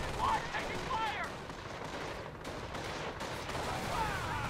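Sustained battle noise from the World War II strategy game Company of Heroes: dense, rumbling gunfire and explosions at moderate loudness, with faint radio-like voice fragments mixed in.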